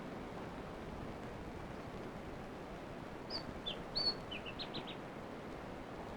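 Black robin calls: a few short, thin chirps near the middle, faint and moderately distant over a steady rushing background like surf or wind.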